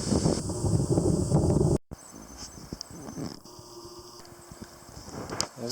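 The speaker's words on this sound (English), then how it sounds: "But pretty windy over here." Wind blowing on a cold, gusty day near a lake, a steady rushing hiss with microphone buffeting, rustling and faint insect-like chirps, briefly cutting out before the breeze resumes.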